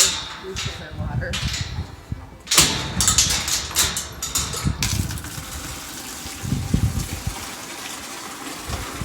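Water gushes and splashes into a sheep trough on a farm, a continuous pouring rush with a few knocks and clunks partway through.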